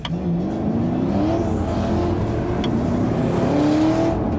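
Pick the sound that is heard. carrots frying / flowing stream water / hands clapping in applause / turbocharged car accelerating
turbocharged car accelerating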